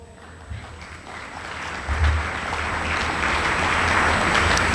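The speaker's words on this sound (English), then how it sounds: "So I'd like to give Abby Medina a round of applause." An audience at an academic and athletic awards banquet applauds, the clapping starting modestly and swelling into a sustained, fairly loud wash of hands that holds to the end.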